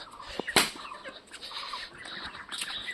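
Chickens are kept at a home alongside pet pigeons, and faint clucks come with one brief burst of wing flapping against quiet outdoor background noise, all heard from a distance.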